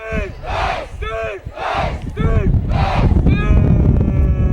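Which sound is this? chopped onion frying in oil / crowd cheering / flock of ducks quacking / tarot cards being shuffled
crowd cheering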